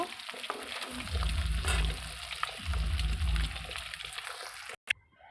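An egg frying in oil in a pan for an egg and potato curry, giving a steady close sizzle with louder bubbling swells as it cooks.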